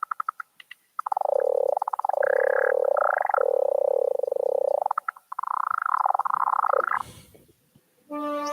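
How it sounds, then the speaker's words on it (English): An Osmose synthesizer plays its Creaker preset, producing loud, close, frog-like croaking tones in long sustained phrases with warbling pitch, ending with a short burst of rapid clicks. "This is just called Creaker, which is like a bunch of like kind of weird little animal sounds"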